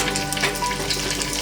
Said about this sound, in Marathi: आता यामध्ये आपण कढीपत्ता घालतो आहोत